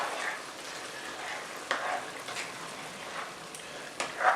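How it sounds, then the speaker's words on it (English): A pot of shrimp and sausage bubbles softly, with a faint steady hiss and light popping and a few louder spoon stirs. The sound is close but quiet, and no voices are heard. "Now we got this boiling a little bit."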